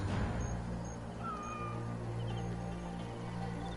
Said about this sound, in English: Ooh, cats.